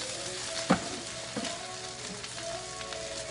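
Hoi tod, a Thai fried mussel pancake, sizzles in spattering oil. The frying hiss is soft and continuous, broken by a few sharp pops and crackles near the start.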